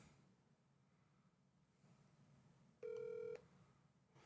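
A telephone sounds a short sequence of dialing tones: a single clear tone burst lasting about half a second, loud against a faint, quiet room background.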